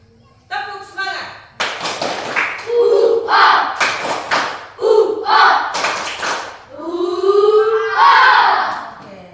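Schoolchildren in a classroom performing a rhythmic clapping chant, sharp unison claps landing in patterned bursts between loud group shouting and a teacher's voice.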